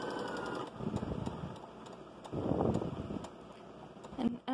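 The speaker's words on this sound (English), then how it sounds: "I'm going to go ahead and just top stitch" Sewing machine top stitching a pinafore dress, a quiet intermittent mechanical whir in short bursts with brief pauses, near and soft, no talk.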